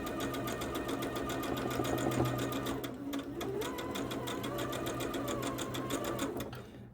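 A sewing machine stitches a quilt block in rapid, even bursts of mechanical clatter, pausing briefly midway before running again, close and fairly loud.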